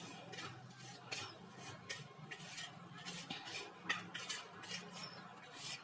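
Spices for aloo tuk being mixed in a bowl, with soft repeated clinks and scrapes of a metal spoon against the dish, fairly faint and steady with no talking.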